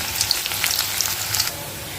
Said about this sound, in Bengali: আর আমি এখানে পেঁয়াজ তেল নিয়েছি হাফ কাপ, পেঁয়াজ নিচ্ছি হাফ কাপ। পেঁয়াজটা আমি বাদামি কালার করে নেব।